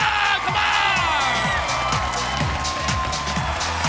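A studio crowd at the X Factor Indonesia 2024 grand final claps and cheers loudly and without a break, with whoops and raised voices carried over the rapid applause.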